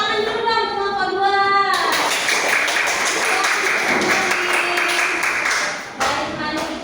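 A classroom of students applauds group 2 with a dense, sustained clatter of clapping lasting several seconds, after a brief stretch of talking and with voices returning at the end.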